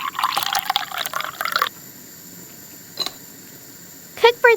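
Water pours into rice while a miniature meal is cooked, a splashing fill for about a second and a half, then quiet with a soft tap and a few small clinks at the end.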